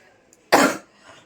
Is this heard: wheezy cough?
yes